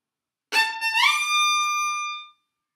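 A violin phrase from an orchestral passage in Beethoven's Fourth Symphony, with a shift after a sixteenth note producing an audible upward sliding portamento into a sustained, clear bowed tone, heard solo and close for about two seconds.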